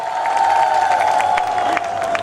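Festival audience at an Odia inauguration event clapping and cheering with ululation, a loud continuous wash of applause and high-pitched voices held steady throughout.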